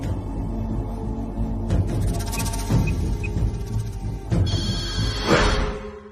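A telephone rings in a domestic scene from a Tamil TV drama, its repeated electronic bell tones sounding over a low hum and rumble, with no speech.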